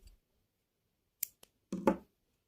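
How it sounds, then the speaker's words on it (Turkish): Scissors snip through crochet yarn in two brief, close cuts: a short crisp snap, then a slightly longer, fuller snip, with silence around them. "ipimi kesiyorum"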